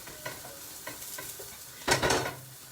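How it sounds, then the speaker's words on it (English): Ginger and green chili roasting in a pan while being stirred, with soft scraping strokes followed by a louder burst of sizzling frying near the end, close and clear. "Ginger and green chili is roasted nicely."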